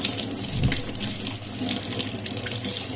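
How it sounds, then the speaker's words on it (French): A kitchen tap runs steadily over a knife being rinsed after rust removal, a continuous close splashing hiss of water hitting metal and a sink with no speech. "Donc là, je vais rincer."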